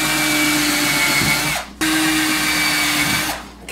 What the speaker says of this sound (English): when you tighten them down with a screw gun, you kind of got to have a feel for it